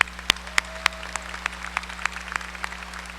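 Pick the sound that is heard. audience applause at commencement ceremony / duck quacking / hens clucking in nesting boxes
audience applause at commencement ceremony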